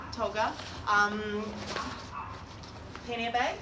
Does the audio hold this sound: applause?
no